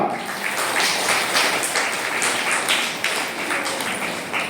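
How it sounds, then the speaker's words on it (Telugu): Loud, dense applause from a crowd at an ashram gathering claps steadily throughout, close and sustained with slight swells. "చప్పట్లు గట్టిగా."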